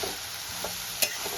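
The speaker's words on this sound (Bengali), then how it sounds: "আমি সেদ্ধ করা পেঁপেটা দিয়ে দিয়েছি। দিয়ে ভালো করে কষিয়ে নেব।" Boiled papaya being stir-fried in a pan, a steady bright sizzle with a spatula scraping now and then and one sharp clink near the middle, close and alone.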